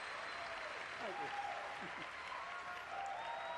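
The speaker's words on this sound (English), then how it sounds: "They got an enthusiastic crowd" Enthusiastic crowd applause at an E3 conference, a steady wash of clapping and cheering throughout with scattered whoops rising above it, while a voice talks faintly over the top.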